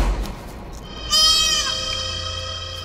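Goat giving one loud, wavering bleat at close range, rising out of a quiet background and trailing off after about half a second.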